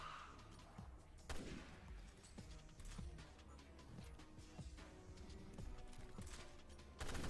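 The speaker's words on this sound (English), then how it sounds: "I took out my burst rifle and took out his buddy that was behind him as well" Burst rifle and magnum fire in Resident Evil Revelations 2 Raid Mode, sharp reports cracking out over a busy game soundtrack, with a loud shot near the start and another at the end amid scattered mechanical clatter.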